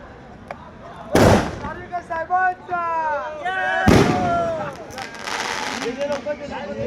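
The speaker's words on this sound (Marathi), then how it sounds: "हा फटाका रॉकेट शॉट लावतोय आम्ही" Two sharp firecracker rocket blasts go off about three seconds apart during a Sai Diwali celebration on a Shirdi pilgrimage walk, with voices talking and calling out between and after the bangs.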